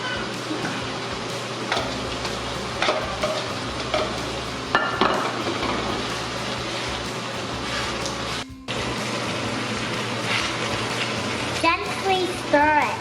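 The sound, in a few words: onion frying and being stirred in a pan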